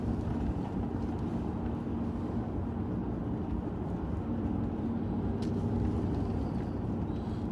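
A car driving down a bumpy small-town side street in the Smokies, with a steady, loud interior road rumble and engine drone throughout and a faint click near the end.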